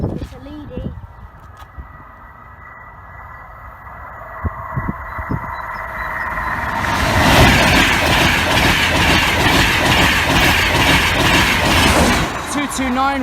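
An Intercity 50 train passes the Church Lane level crossing in Nottinghamshire, building from faint distant noise into a loud, close roar with rhythmic wheel clatter, preceded by scattered knocks and a brief voice.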